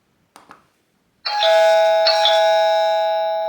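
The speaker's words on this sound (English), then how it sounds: "And you can use your Tapo switch as a doorbell." A TP-Link Tapo smart switch set up as a doorbell sounds a bright, ringing two-tone chime that repeats and sustains loudly, after a couple of faint taps.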